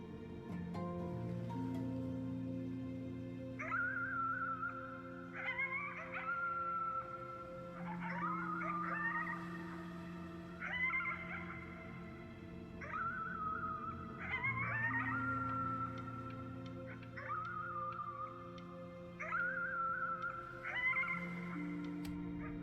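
In Before Your Eyes, a long drawn-out howl at the moon rises and falls repeatedly in wavering, wolf-like phrases over a steady musical drone, clear and fairly prominent throughout.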